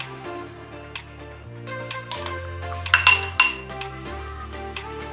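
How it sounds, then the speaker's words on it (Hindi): A spoon stirs apricot fruit chaat with chaat masala and chopped murabba in a bowl, giving light scattered clinks against the dish over soft background music, with no talking. "अब हम इसमें मिक्स करेंगे एप्रिकॉट।"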